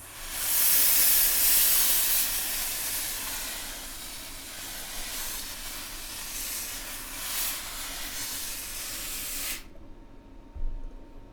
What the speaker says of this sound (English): I used lots of steam and very light pressure with my iron